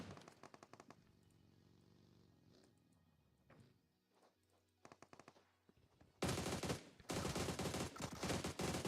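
Rapid bursts of automatic gunfire in a video game tournament match, faint rattling shots early, then loud, sustained firing that dominates the last few seconds.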